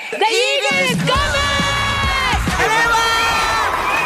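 A loud audience at a TV singing competition cheers and whoops with high-pitched shouts and yells, sustained throughout, over a busy backdrop of sound.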